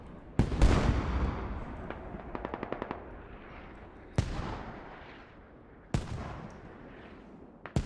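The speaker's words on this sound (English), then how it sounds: "I can hear they've got a mortar inside" Heavy mortar and machine-gun fire in the tactical shooter game Squad: a loud opening blast, then a quick burst of rapid shots, with two further sharp booms spaced apart over a rumbling battlefield background.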